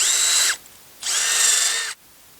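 A power drill tapping a hole for a skid plate on a Mav R XRS 4s MAXX RC vehicle, two steady whining bursts of about half a second and one second with a short pause between, loud and close.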